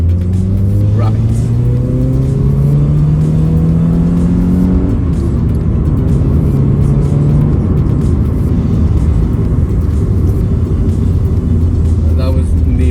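A 2001 Subaru Impreza 2.0 GX engine revs up, rising steadily to around 6,000 RPM over the first few seconds, then settles into a loud, constant rumbling drone heard up close.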